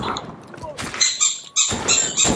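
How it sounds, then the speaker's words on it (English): Dogs bark and squeak in the background while an online shooter match plays, the sounds coming as short bursts mixed with game noise and talk. "Tell your dogs to shut up, it's annoying."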